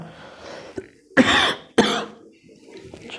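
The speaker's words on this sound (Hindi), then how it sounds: "थोड़ी खांसी आ गई।" A person coughs twice, harsh and close, between quieter stretches of breathy voice.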